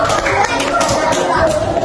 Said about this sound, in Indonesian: Tepuk tangan dulu buat Datul